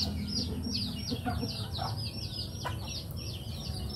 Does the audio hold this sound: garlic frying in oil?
no